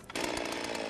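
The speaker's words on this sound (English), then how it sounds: "Got the chainsaw." A chainsaw cuts at a logger sports competition, starting with a brief sputter and then kicking into a sustained, loud buzzing whine that runs steadily for the rest of the moment.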